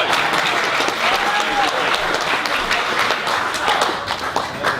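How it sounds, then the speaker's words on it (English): Wedding guests at a reception applaud during the speeches, many hands clapping in a lively, sustained burst, fairly close, with scattered voices and a brief whistle mixed in. "give him a clap first."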